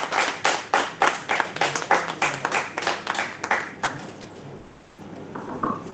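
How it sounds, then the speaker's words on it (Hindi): A group at a birth anniversary celebration for Dr. Babasaheb Ambedkar claps in unison with a steady rhythm of about a dozen sharp beats. The claps fade into quieter scattered sounds near the end. "तालियों की गड़गड़ाहट के बीच मैं चाहूंगा आपकी को स्वागत करें।"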